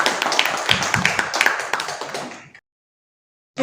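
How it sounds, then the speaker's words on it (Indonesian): An audience claps steadily and fairly close for about two and a half seconds, the clapping thinning and fading before a sudden silence, then a brief burst at the very end. "Tepuk tangan."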